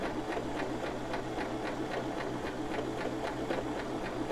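A domestic sewing machine stitches steadily for a beginner at her first sewing session, its rapid even needle beat whirring close by and alone throughout.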